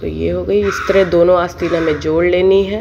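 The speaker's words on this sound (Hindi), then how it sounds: "बार बार आपको एक कौवे की आवाज़ सुनाई दे रही है।" A crow caws repeatedly in a rhythmic series, loud and nearby, while a person talks over it.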